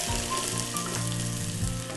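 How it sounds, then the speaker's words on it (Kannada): Chopped onion fries in about two spoons of hot oil in a pan, giving off a close, steady crackling sizzle with no talk. "ಎಣ್ಣೆ ಕಾದ್ಮೇಲೆ ಈರುಳ್ಳಿ"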